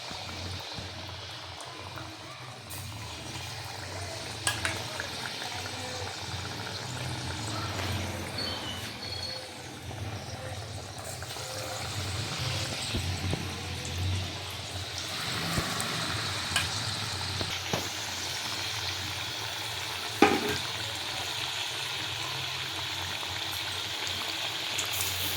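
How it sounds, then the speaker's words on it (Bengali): Batter-dipped fritters for Gokul pitha fry in hot oil, making a soft continuous sizzle and bubbling with occasional light clinks and stirring noises throughout. "বড়াগুলোকে তেলের গোলায় ডুবিয়ে তেলে ছাড়ুন"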